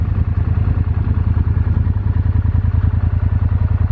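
A John Deere 9650 combine harvester running on a soybean farm, a loud, steady, rhythmic diesel chugging with a rattling clatter, close and constant with no voices.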